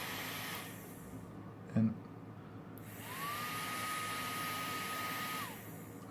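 A small USB-powered vacuum cleaner from eBay, its motor spinning up very fast with a high steady whine that holds for a couple of seconds before winding down, heard close after a brief bump and a single spoken word.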